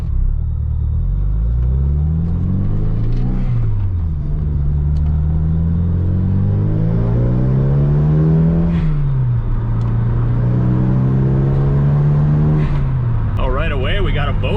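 An Eclipse GSX or Trans Am car is driven, its engine note rising and falling through gear changes in a loud, steady interior rumble, with a brief higher whine near the end.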